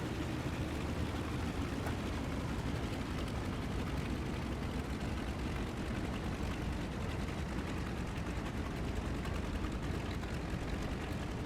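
A Ju 52 model aircraft engine idles in a loud, continuous, even drone with a rough buzzing texture, steady throughout with no talking.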